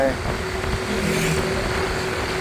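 A railway track maintenance vehicle that tamps and levels ballast rumbles along at night near Samsen in Bangkok, giving a steady engine drone with a faint whine running through it, with someone talking over it.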